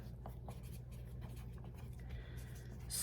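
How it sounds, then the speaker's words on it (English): A marker writing the date on a plastic freezer bag for a black bean sweet potato chili freezer meal, soft scratchy strokes in short bursts over a steady low hum, fairly quiet and close. "Let's label our bag with the date."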